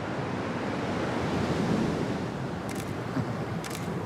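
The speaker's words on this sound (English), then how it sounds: "The waves are so nice here." Ocean surf rolling in off the coast of Fiji, a steady close wash of breaking waves and churning water with gusty wind across the microphone, continuous and fairly loud with no voices.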